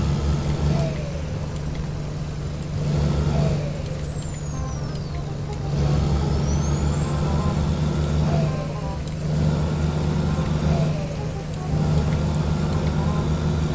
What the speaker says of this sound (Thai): เสียงล้อเหยียบโคตรดังเลย